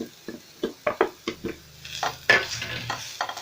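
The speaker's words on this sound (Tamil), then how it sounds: "இந்த மசாலா நல்லா பொட்டேட்டோவோட மிக்ஸ் ஆகிற வரைக்கும் நல்லா கிண்டி விடணும்." Mashed potato masala for a stuffed bread roll is stirred in a pan, a spoon scraping in a quick run of separate strokes with a little clinking and a soft sizzle behind, close and fairly quiet.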